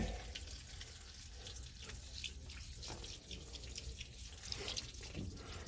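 Steady rushing water pours and trickles as it drains through copper and galvanized pipes, with faint dripping and splashes, continuous and fairly close.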